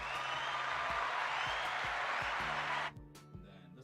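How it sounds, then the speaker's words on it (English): An applause sound effect plays from a soundboard as a steady burst of crowd clapping that cuts off abruptly near the end, with quiet talk and faint low thumps underneath. "I think this one's applause."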